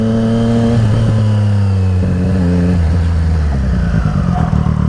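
A motorcycle braking as hard as possible on the front brake alone from about 20 mph without flipping over: a loud, close engine note sinks steadily in pitch as the bike slows, with no voices.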